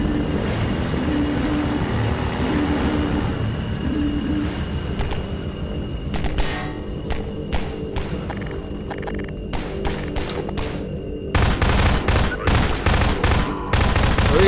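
Ships in the video game Half-Life 2 fire in rattling bursts over a steady engine-like drone, with clusters of sharp shots in the middle and a dense, loud volley at the end.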